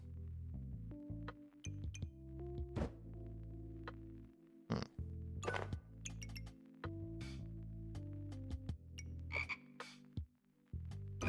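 A toad croaks in a video game, with repeated low croaks running throughout alongside scattered glassy clinks and pings, steady and close in the game mix.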